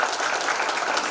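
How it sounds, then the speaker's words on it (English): Audience applause at a corporate HR event, a dense burst of clapping welcoming speakers onto the stage, loud and continuous throughout. "we have to have so much applauding and welcoming to them"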